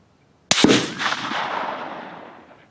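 A single loud Steyr rifle shot at an outdoor range, a sharp crack followed by a long rolling echo that fades over about two seconds, no voices.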